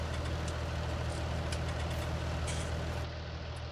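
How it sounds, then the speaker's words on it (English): A Case IH Axial-Flow 870 tractor engine idles steadily in Farming Simulator 19, a continuous low rumble holding at an even level throughout with no talk over it. "We're still in the Action 870 there. Beautiful looking tractor."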